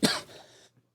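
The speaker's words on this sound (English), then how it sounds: "Sorry, I had to cough it out." A single sharp, loud cough, close to the microphone, then a brief rough tail of throat noise fading out; no speech.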